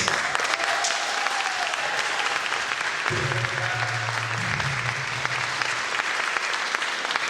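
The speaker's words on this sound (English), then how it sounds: "Let's have a round of applause." Applause from a graduation ceremony audience at a summer school commencement, a steady dense wash of clapping that carries on alone throughout, with a faint tonal sound partway through.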